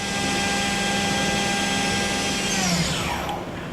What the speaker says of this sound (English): that was a tool change or simulated tool change